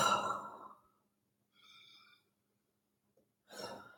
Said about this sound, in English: rub my hands together, okay, and breathe in for about 30 seconds